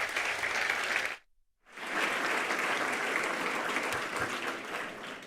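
An audience at a cultural presentation breaks into sustained applause for an introduced consultant; the clapping cuts out for a brief silent gap, then resumes as a dense, even round.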